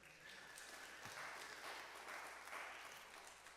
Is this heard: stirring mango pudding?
no